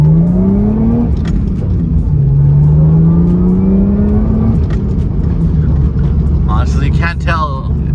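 A Lexus IS300 fitted with an HPS intake hose revs up and down under load, its engine tone climbing and falling loudly from inside the car, while someone talks over it.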